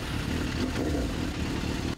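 Several motorcycle engines roar steadily at the start of a biker rally leaving a victory park, a dense, loud, continuous rumble with no voices.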